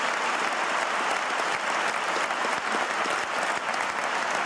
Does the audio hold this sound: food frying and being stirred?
no